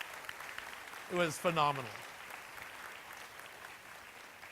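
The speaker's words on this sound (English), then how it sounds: "I think they deserve a round of applause." An audience at a plenary session breaks into applause, a spread of clapping that swells and carries across the room while someone speaks briefly over it.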